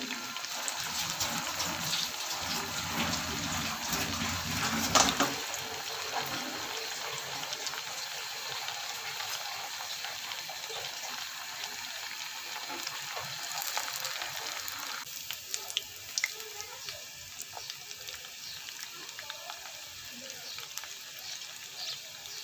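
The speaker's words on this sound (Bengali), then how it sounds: "কাবাবগুলো আমি ফুটনো তেলে দিয়ে দিব" Soybean kebabs frying in hot oil over low heat, a steady close crackling sizzle that continues throughout with small pops.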